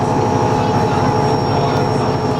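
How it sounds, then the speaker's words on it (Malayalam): A helicopter runs at the rim of the Grand Canyon, where aircraft land and take off, giving a steady, loud rotor and engine drone with a low pulsing throb that holds constant throughout. "യാത്രക്കിടയിൽ ഇങ്ങനെ ഹെലികോപ്റ്ററുകൾ വന്നിറങ്ങുകയും പറന്നു പൊങ്ങുകയും ചെയ്യുന്ന ഒരു പ്രദേശം"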